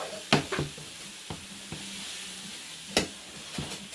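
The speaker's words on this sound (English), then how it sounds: "give it a good stir" Chilli being stirred in a pan on the heat, with a few sharp scrapes and clinks of the spoon against the pan over a soft, steady sizzle.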